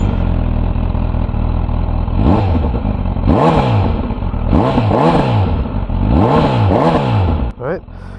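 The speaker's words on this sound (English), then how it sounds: "we will start with a couple of revs. The engine is kind of cold still" Honda CB1000 Hornet SP motorcycle with stock exhaust, engine still cold, revved several times from idle in a series of sharp rising and falling bursts, loud and close, then settling back to idle.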